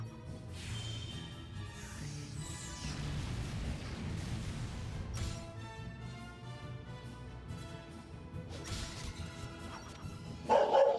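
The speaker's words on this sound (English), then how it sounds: "Dog." Dog barking in a Dragon Quest 8 game session, a few yips and bow-wows scattered over steady game music and crashing effects, with a louder burst near the end.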